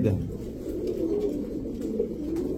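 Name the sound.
pigeons cooing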